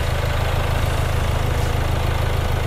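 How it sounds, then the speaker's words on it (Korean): Land Rover Discovery Sport 2.0 TD4 diesel engine idling, a loud, steady low rumble with an even rhythmic pulse, close by and unchanging throughout. "엔진 소리 일정하네요."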